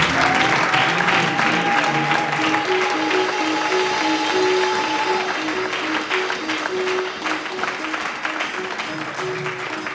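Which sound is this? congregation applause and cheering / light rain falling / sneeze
congregation applause and cheering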